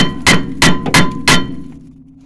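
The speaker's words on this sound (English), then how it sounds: "let's get a bit of a clonk with the hammer" Hammer striking the rear parking brake assembly of a 2004 VW Touareg during brake shoe replacement: four loud, sharp metallic clonks in quick succession, close up, with a ringing tail fading after.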